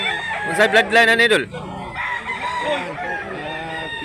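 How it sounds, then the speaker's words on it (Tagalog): A Sweater bloodline gamecock, a two-year-old bull stag at a market in Mantalungon, Barili, Cebu, crows once loudly and close by, followed by soft clucks while people talk nearby. "Napakagandang manok mga idol"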